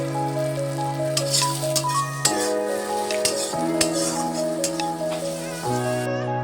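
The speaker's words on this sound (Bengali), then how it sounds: "এটা আর খানিকক্ষণ ভালো মতো কষিয়ে নেব" Food is stir-fried in a pan, with a steady sizzle and scraping spatula strokes plus light metallic clinks, close and fairly loud, under sustained background music.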